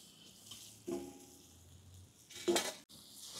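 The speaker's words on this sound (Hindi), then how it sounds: "आपण आता झाकण काढून घेऊ।" A lid is lifted off a tawa pan of paneer masala in a home kitchen, giving a soft metallic clink near one second and a brighter, louder clatter near two and a half seconds, with a low sizzle underneath.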